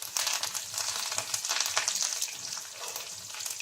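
Onions already golden brown, with curry leaves and dried red chillies added, fry in hot oil as seasoning for Kadapa-style horse gram rasam, giving a steady close sizzle and crackle throughout with no talking.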